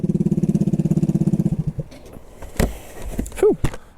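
A scooter engine on a quick test ride runs with a steady, rapid pulsing putter for about a second and a half, then cuts out, leaving scattered knocks, a sharp clunk and a brief rising whine.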